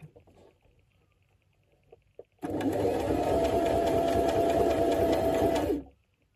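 A sewing machine stitches a buttonhole in one continuous burst of rapid, even clatter lasting a few seconds, close and fairly loud, preceded and followed by near silence with a few faint handling knocks.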